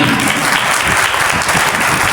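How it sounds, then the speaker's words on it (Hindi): Loud, dense applause from a church congregation fills the whole stretch, steady and close with no pauses. "जोरदार ताली।"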